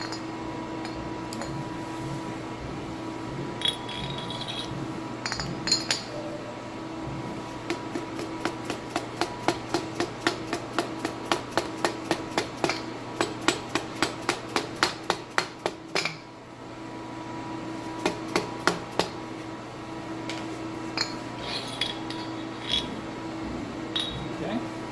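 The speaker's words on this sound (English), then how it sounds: "so we're going to hammer this as well" A hammer taps a piston onto a base pipe to push it past O-rings into a metal housing, a long run of sharp, regular metallic strikes getting faster in the middle, with speech around it.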